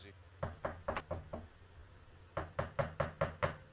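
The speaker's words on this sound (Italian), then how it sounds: "Smettete di bussare" Knocking on a door in GTA V FiveM roleplay, two bursts of rapid knocks: about six quick raps, a short pause, then about seven more, close and distinct.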